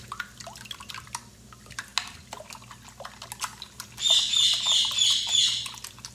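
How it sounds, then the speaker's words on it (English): A pet bird chirps in a kitchen where breakfast is cooking, with scattered sharp tweets at first and then a loud, rapid burst of high chirping up close, mixed with light clicks and drips. "And yes, I have a bird."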